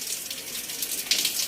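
Water runs steadily from a household tap in a continuous hiss that swells slightly near the end, with no talk over it.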